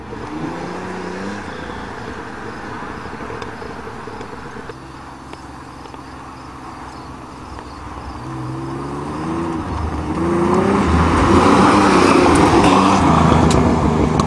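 Pontiac Fiero V6 driving on a farm, its engine droning and shifting pitch as it moves off, then growing louder and rougher as it pulls away, with faint insect chirping behind.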